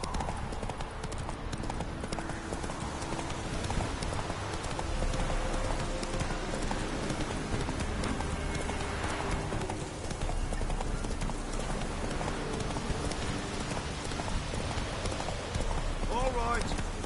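Horse Roach gallops in The Witcher 3 video game with steady, continuous clip-clop hoofbeats close up, layered over game ambience and music with voices speaking.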